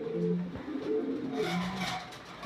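Red Lahori fancy pigeons at a breeding loft coo in low, rolling phrases, several soft calls overlapping and repeating close by over steady background noise.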